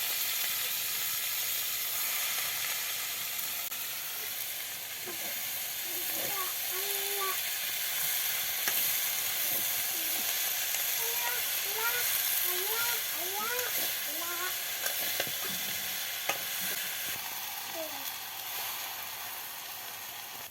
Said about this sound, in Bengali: এবার সমস্ত মশলার মধ্যে শাক দিয়ে দিবে।